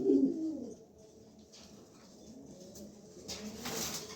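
A wing-clipped male pigeon gives a short, fairly close coo at the start, then the sound fades to a quiet, hollow background before a brief noisy rustle near the end.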